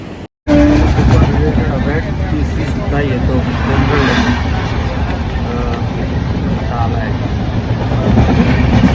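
Steady rumbling and rattling of a moving Konkan Railway general-class train carriage, a continuous loud roar with faint voices underneath throughout.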